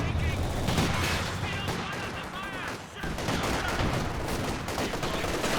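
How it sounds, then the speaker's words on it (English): Grenade blasts and gunfire from a Company of Heroes 2 2v2 battle, a dense, continuous din of explosions and small-arms fire with commentary talking over it. "Grenades exchanged."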